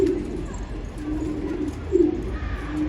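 Pigeons coo in soft low rolling calls, one swelling louder near the middle, over a steady background of ambient noise with no talk.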